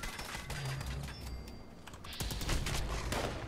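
Rapid automatic shots from an Enclave auto rifle in Fallout 76 rattle in a fast, even stream, fairly close and steady, with a brief lull before the firing resumes louder.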